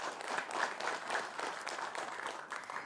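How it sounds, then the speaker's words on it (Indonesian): Applause for the candidate pairs at a 2020 regional election debate in Karawang, a dense, steady patter of many hands from a hall audience, moderately loud and continuous. "Boleh berikan tepuk tangan kepada para pasangan calon."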